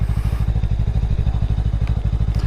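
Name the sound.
Lifan KPT 400 motorcycle being ridden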